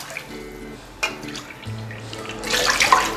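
Water is poured into a cooking pan while making kesari, a steady running, splashing stream that swells louder toward the end.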